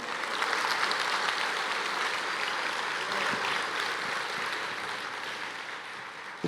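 A church congregation applauds together in a steady wash of clapping that swells, then slowly fades, heard from a moderate distance.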